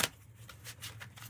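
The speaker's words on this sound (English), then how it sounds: "Okay, I'm going to give this a little shuffle." A Kipper card deck is shuffled in a short, soft flurry of riffling, papery bursts, close and quiet with no talk.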